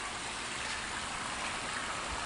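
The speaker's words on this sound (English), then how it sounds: "And we've got a nice looking waterfall now." A small garden waterfall, freshly cleaned up and fed by a new, more powerful pump, pours in a steady, even rush of water that stays constant and fairly close, with no voices.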